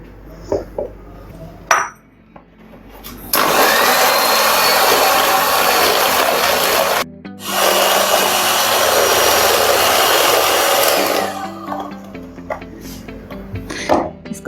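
Electric beater whipping three eggs with sugar and cooking oil for a chocolate cake, a steady loud motor whir running about eight seconds, briefly cut and restarted, with clicks and handling knocks before and after.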